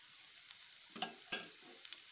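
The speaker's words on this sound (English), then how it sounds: "Again now I am going to add oil on the dosa and around the dosa" Oil crackling on a banana flower adai dosa made with multigrain flour in a pan, a quiet steady hiss broken by a few short louder sizzling bursts.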